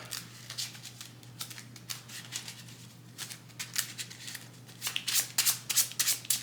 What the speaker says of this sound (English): I'm going to just get my deck ready. Shuffle back up.